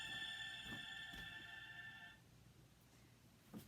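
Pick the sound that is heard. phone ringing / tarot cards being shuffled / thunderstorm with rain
phone ringing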